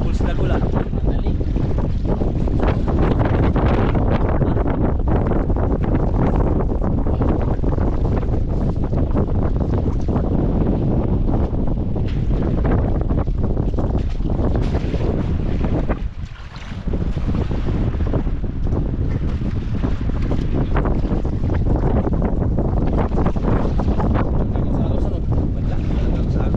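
Strong wind roars without pause against a small fishing boat on rough, wavy water, the microphone buffeted by a loud, steady rush that dips only once. There is no talking.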